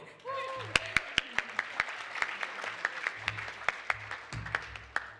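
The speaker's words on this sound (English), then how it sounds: "Hand of applause for the Sheetal." Audience applause for Sheetal at the New Zealand Indian Central Association centenary celebration, a steady patter of clapping with a few sharp, close individual claps standing out and faint voices beneath.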